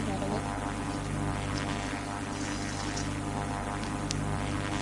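Propeller airplane landing in a 3D flight video game, a steady loud engine drone with airscrew buzz running throughout, with a voice talking over it.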